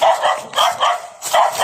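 A happy dog barking in quick, loud bursts close by, about five yips and barks in an uneven rhythm.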